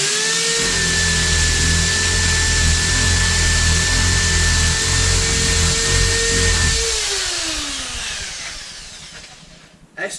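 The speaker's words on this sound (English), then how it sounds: "the much awaited test of the antique roll plug hammer drill attachment" An antique roll plug hammer drill attachment on a power tool runs with a loud, steady whining drone for several seconds, then winds down and stops.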